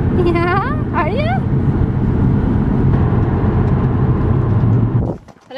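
A steady, loud road rumble from inside a moving car fills the cabin throughout, with a few brief high-pitched whining vocal sounds near the start before the noise drops away at the end.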